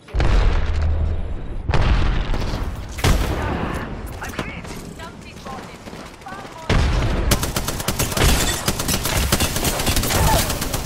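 Grenade blasts and heavy gunfire in a shooter video game, loud booming explosions with sustained rapid bursts of fire throughout, close and dense, with voices faintly beneath.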